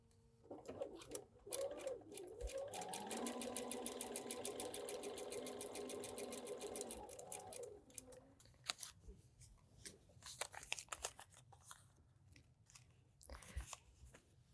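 A sewing machine runs a fast, steady stitch for about six seconds while piecing a foundation paper block, followed by scattered clicks, taps and handling noises; a voice speaks faintly underneath.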